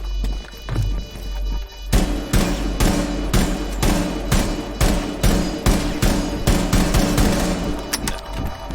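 Rapid gunfire rings out in Rainbow Six Siege on the Consulate map, a steady string of loud, sharp, closely spaced shots in a sustained burst with no talking.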